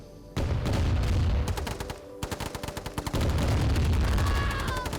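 Command & Conquer infantry gunfire rattles in fast machine-gun bursts and rapid shot trains, loud and continuous, with a short pause mid-clip before the shooting resumes; no voices.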